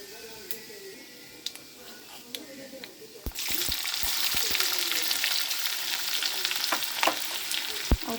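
Chopped onions drop into hot mustard oil and break into a loud, steady sizzle with scraping stirs, following a quieter stretch of speech over a soft background.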